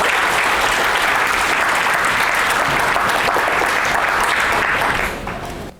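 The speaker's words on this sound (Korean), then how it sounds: "큰 박수 부탁드립니다." An audience at a book concert gives sustained, loud, even applause that holds for about five seconds before tapering off at the end.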